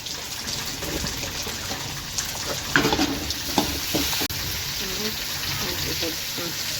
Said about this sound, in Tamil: நெக்ஸ்ட்டு வெங்காயம் தாளிப்போது